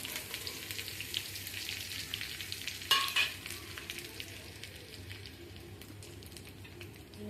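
Dried red chillies fry in hot oil, giving a soft continuous sizzle with crackling pops and a brief stirring scrape near the middle, fairly quiet and close with no voices.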